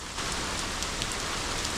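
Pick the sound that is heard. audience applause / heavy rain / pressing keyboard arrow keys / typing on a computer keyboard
heavy rain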